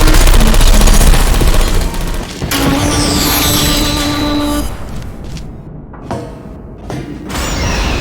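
Automated turrets in the video game Portal 2 fire loud, rapid bursts of bullets, with mechanical whirring and thuds between volleys that soften toward the end.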